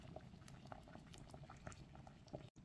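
A fish soup of mâchoiron simmers in a half-covered pot over medium-high heat, with soft bubbling pops and a patter that stay faint and steady and briefly cut out near the end.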